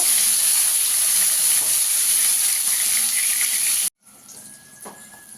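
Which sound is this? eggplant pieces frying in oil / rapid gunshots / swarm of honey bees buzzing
eggplant pieces frying in oil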